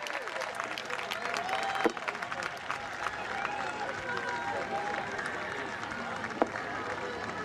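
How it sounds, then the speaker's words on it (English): Applause and cheering from a spectators' crowd at an outdoor Highland Games, a steady mid-level wash of clapping with a couple of sharper peaks, running continuously for several seconds. "A wee cheer for a great competitor all day, Kyle Randalls from Grangemouth."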